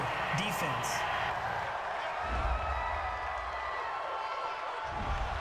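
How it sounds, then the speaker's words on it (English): A large stadium crowd at an NFL football game between the Houston Texans and Los Angeles Rams reacts to a penalty call with a loud, continuous roar of boos and shouting that fills the whole stretch. "Well, this crowd does not like that call."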